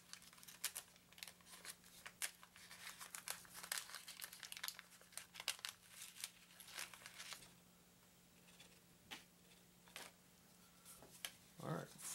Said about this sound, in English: let's open our other pack and hope we have better luck with that one